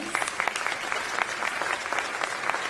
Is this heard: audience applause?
yes